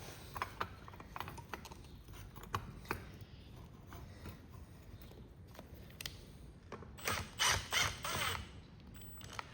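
A tool loosening the headlight mounting on a Cub Cadet tractor, with faint, scattered ratcheting clicks and small metallic knocks, followed by a louder cluster of clicks near the end.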